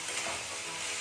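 Vegetables frying in a pan, a brief, close, steady hiss of sizzling oil with no voices.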